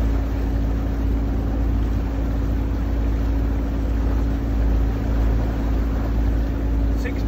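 A boat engine fitted with a Bruntons Autoprop propeller runs at about 2000 RPM, a loud, constant low drone with steady rumble and no pauses, heard close and alone.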